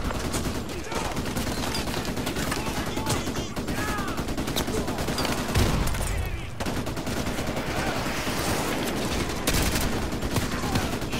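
Sustained gunfire from Call of Duty Modern Warfare 2, with dense, continuous bursts of automatic fire and shots packed together across the whole stretch, loud and close, with shouting voices mixed in.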